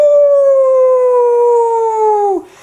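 Wolf howling in a winter story, one loud, long, clear tone that slides slowly downward before breaking off abruptly near the end.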